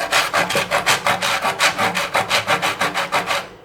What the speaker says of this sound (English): So I grate the corn like this